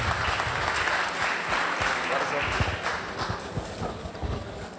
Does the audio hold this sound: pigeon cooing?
no